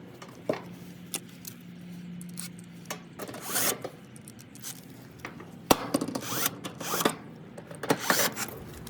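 An air conditioner panel is handled and fitted back into place, giving scattered scraping, rubbing and sharp metallic clicks and snaps at close range, with no voices.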